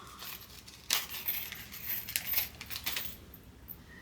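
A small metal zipper pull for a boxy bag, handled near the microphone, gives a quiet sharp clink followed by a few light metallic rattles and jingles that fade out.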